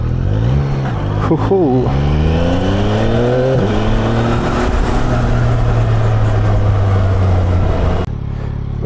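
A 2024 Yamaha MT-09SP motorcycle starts and pulls away, its engine rising and falling through several loud revs and gear changes close by for about eight seconds before cutting off abruptly; a rider whoops over it.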